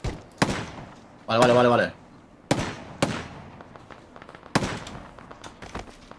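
Pistol gunfire in PlayerUnknown's Battlegrounds, several sharp separate shots spaced a second or so apart, heard with a player speaking briefly between them.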